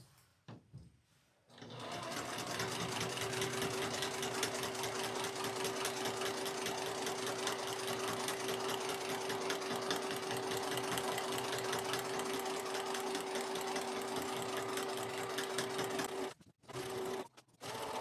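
A sewing machine runs a steady, fast straight-line quilting stitch across a fabric placemat, its rapid mechanical chatter and whine continuous for about fourteen seconds, starting after a brief pause and stopping with a short final burst.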